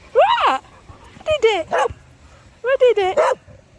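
A six-month-old dog barks and yips in short bursts, a few sharp, high, whiny barks in clusters with pauses between, close and loud, without talk.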